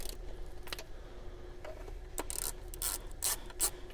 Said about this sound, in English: Make sure you have your ratchet to loosen.